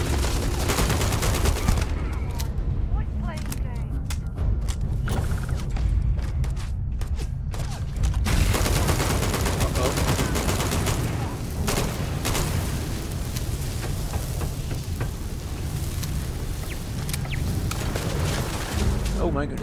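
An automated turret in Starfield fires sustained bursts of gunfire. The shots come as dense, loud rattling volleys with heavy booms and mechanical clatter, with a person talking over parts of it.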